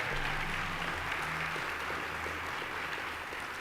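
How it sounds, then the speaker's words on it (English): A gala audience applauds itself after a fundraising milestone, a dense, steady wash of clapping in a large room, fairly close and even throughout, with faint low murmurs underneath. "Give yourselves a round of applause."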